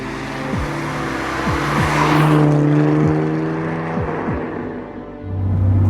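An Eagle E-Type Low Drag GT, a rebuilt Jaguar E-Type, drives past with a steady engine roar and a rising and falling rush that swells in the middle and surges again at the end. It is loud and close, with no voices.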